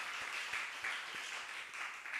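Church congregation in a Sunday worship service clapping to welcome returning members, a fairly soft, steady patter of many hands with faint rhythmic accents, heard from a distance.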